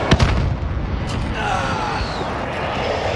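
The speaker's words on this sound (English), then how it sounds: "Throwing frag." A frag grenade goes off in a shooter video game: a sharp blast at the very start, then a rolling rumble of loud, dense noise that lingers and slowly fades.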